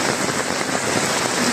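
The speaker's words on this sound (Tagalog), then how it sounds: "Gawa yung sobrang lakas yung ulan" Heavy rain pours down during Typhoon Enteng over a hillside subdivision, a dense, steady roar of downpour drumming on surfaces without pause, with no voices.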